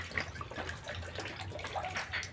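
Water splashes and trickles into a cooking pan for a raw banana curry, a soft continuous pouring with faint drips, fairly quiet and close.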